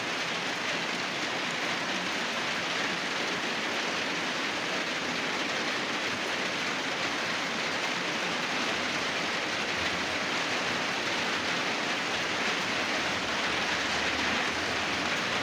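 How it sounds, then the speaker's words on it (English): Rain falls in a steady, dense hiss that stays at an even level throughout, with no voices. "the rain is not very big"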